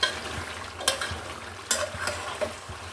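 Duck meat stir-fried with spices gives a close, steady sizzle, with a few spoon scrapes and clinks against the pot at uneven intervals and no talking.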